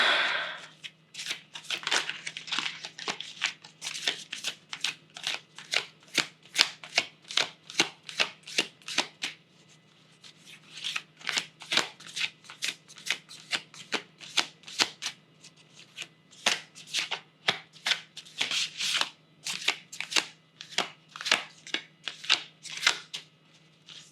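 Moonology Oracle cards being shuffled by hand in repeated quick riffling bursts, close and crisp, with short pauses between rounds and no talking.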